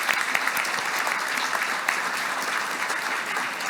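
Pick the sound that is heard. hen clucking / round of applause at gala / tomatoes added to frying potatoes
round of applause at gala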